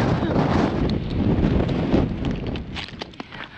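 Strong wind buffets the microphone with a loud, continuous rushing roar that eases slightly toward the end, at the Strait of Magellan.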